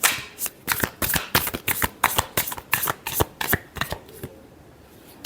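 A deck of tarot cards is shuffled in quick, rhythmic bursts of crisp riffling, about a dozen close, loud flutters before trailing off, with no talk.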